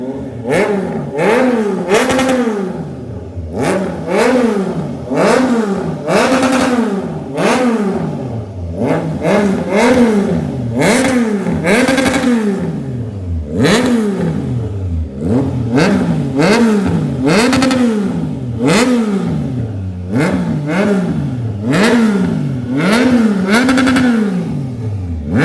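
A Triumph Trident 660 motorcycle with a full exhaust system is revved hard again and again, each loud, close blip rising and falling in quick repeated sweeps with no talking.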